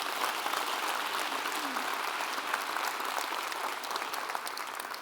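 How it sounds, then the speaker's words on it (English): An audience at a school district State of the Schools address breaks into steady, dense applause that fills the room, with many hands clapping at once and tapering slightly toward the end. "and that's worth an applause"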